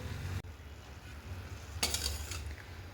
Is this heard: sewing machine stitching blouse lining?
no